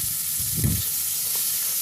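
Cashews and raisins fry in a pan with a soft, steady sizzle while a spoon stirs them in one brief scraping pass.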